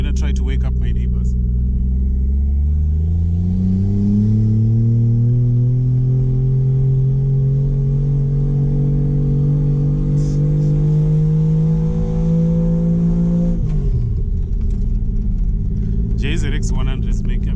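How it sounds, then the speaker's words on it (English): Toyota Mark II JZX100 engine revving up in a long, steadily climbing drone that holds high for several seconds before dropping abruptly back toward idle, loud and close, with a voice faintly heard over it. "Jzx100's make amazing sounds,"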